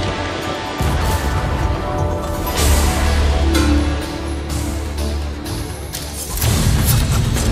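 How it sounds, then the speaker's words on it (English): Fireworks bursting during the Year of the Dog Lunar New Year event in Overwatch, a series of loud booms and crackling blasts layered over continuous game sound. "Ready for some fireworks?"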